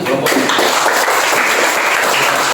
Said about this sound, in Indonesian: Oke, kasih aplaus semua.